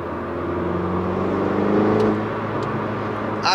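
Muffled engine hum and road rumble from inside a MINI GP3 (F56) with an HJS downpipe, a steady low drone that swells slightly as the car speeds up, then settles.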